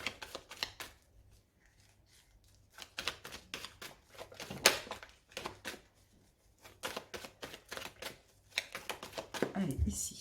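A deck of tarot cards is cut and handled in a sequence of crisp flicking snaps and slaps, close up, with a voice speaking between them.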